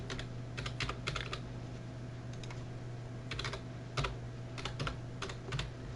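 A computer keyboard clicks in short bursts of rapid keystrokes as an ID and password are typed, separated by brief pauses under a low steady hum.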